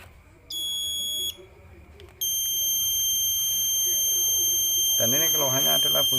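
A washing machine control module with a fault, powered from a wall plug, gives off a steady high electronic beep that keeps sounding. It drops out briefly near the start and then holds continuously, with faint background noise and a burst of indistinct sound toward the end.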